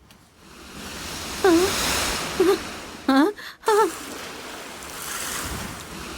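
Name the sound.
sea waves crashing on the shore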